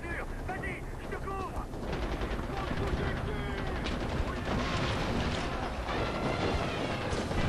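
Continuous gunfire from Far Cry 4, dense automatic bursts and shots layered over game sounds and music, loud and sustained throughout with no clear pauses.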